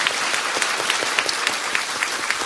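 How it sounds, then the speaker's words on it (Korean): Audience applause at a Korean political talk event, dense steady clapping throughout, loud and close, with a few sharper individual claps standing out. "박수 한번 보내주세요"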